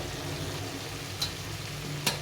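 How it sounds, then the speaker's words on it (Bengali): Fried eggplant being stirred with spices in a pan, a steady low sizzle under two quick scrapes of the spatula against the pan. "এই ভেজে রাখা বেগুনগুলো, একটু নাড়াচাড়া করে নেবো"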